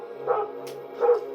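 A dog barks twice, short muffled woofs with a pause between them, heard at moderate distance over a low steady hum.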